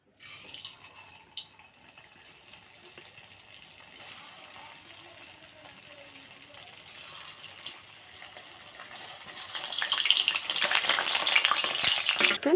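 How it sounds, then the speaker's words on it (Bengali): Homemade sweet dumplings for botfol hiss and crackle as they fry in hot oil over a gas flame, a steady sizzle that swells louder and brighter near the end, with occasional stirring and no talk. "একটু লাল করে ভেজে নিতে হবে"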